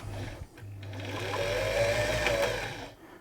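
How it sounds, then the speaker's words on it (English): A Singer 328P sewing machine winding a bobbin, a smooth rising motor whir that holds steady then winds down, close and fairly loud with no talk. "Engage the bobbin winder, just release the stop motion clutch there."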